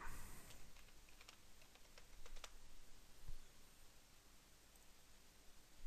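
Password being typed on a computer keyboard, a quiet run of irregular key clicks and taps over faint background hiss, with no voices.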